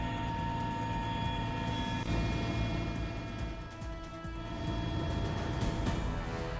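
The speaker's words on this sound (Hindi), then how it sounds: "पासीघाट के मेबो और सिगार इलाकों में जंगल की बड़ी आग बुझाने के लिए MI-17 V5 हेलीकॉप्टर तैनात।" A Mi-17 V5 helicopter fighting a large forest fire near Pasighat drones steadily with a constant engine whine and rotor hum, loud and unbroken for several seconds.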